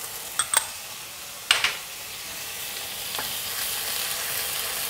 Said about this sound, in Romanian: Începem prin a turna ulei de floarea soarelui în tigaie, peste care adăugăm ghimbirul și usturoiul.